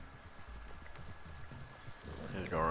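Horse hooves gallop in the Red Dead Redemption 2 video game, a steady rhythmic drumming of low thuds running throughout, with a voice rising over them near the end.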